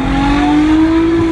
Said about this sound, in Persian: صدا موتورا اگزوز خاموشه درسته؟